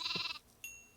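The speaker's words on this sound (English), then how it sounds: "Another pink sheep." Sheep on a video game farm give a short, nasal bleat, followed by a faint electronic chime, close and clear with no talking.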